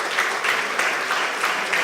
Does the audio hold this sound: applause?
yes